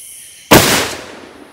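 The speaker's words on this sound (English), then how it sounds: ".416 Barrett from the shoulder" A single .416 Barrett rifle shot fired from the shoulder outdoors at a range cracks out as one loud, sudden blast, then trails off in a roaring echo that fades over about a second.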